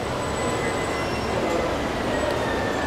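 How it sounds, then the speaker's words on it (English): Steady rumbling hum of a model train running in a large model train exhibit, continuous and fairly loud with faint high whines, no voices. "the world's largest model train exhibit"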